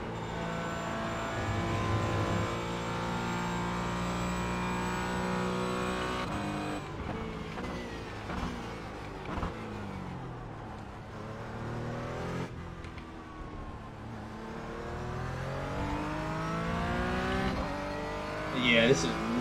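A race car engine in a sim racing game, played on an HP Reverb G2 headset, drones and revs through gear changes with a whining pitch that climbs and drops, steady and moderately loud throughout.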